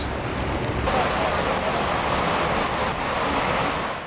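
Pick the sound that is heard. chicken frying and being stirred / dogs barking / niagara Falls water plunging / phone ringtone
niagara Falls water plunging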